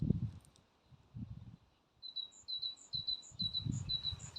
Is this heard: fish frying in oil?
no